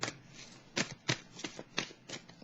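Tarot cards riffled and flicked in several quick, crisp bursts, close and fairly quiet, with short pauses between shuffles as cards are drawn.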